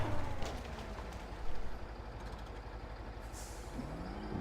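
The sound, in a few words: truck engine and air brake in video game Spintires: Mudrunner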